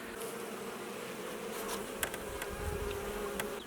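Honeybees buzz steadily at an open beehive during a hive check, a dense, continuous drone with a few individual bees passing close by, no voices present.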